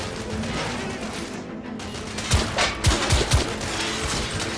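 Gunfire from the video game The Order: 1886, a dense fusillade of shots under a constant noisy backdrop, with several louder, sharper bursts clustered in the second half.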